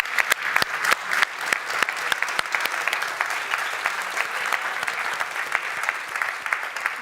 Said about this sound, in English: Let's give a final round of applause for this second round.